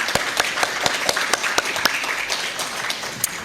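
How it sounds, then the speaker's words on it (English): Short burst of audience applause at an academic lecture event, with individual sharp claps standing out near the front of a moderate crowd. "So can I please have a little applause for"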